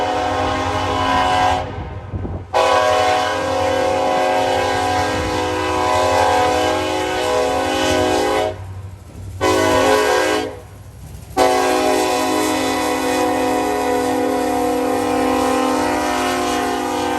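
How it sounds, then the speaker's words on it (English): A northbound Norfolk Southern grain train led by an EMD locomotive sounds long, loud chords on its horn in several blasts, with heavy rumbling of the passing locomotive and railcars beneath. "here came a northbound grain train on Norfolk Southern with a very sweet EMD"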